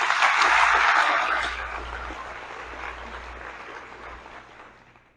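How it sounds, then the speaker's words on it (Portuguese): A church congregation claps together after a call to applaud the Lord, a dense, loud burst at the start that gradually thins and fades across the room. "Você pode aplaudir o Senhor por isso?"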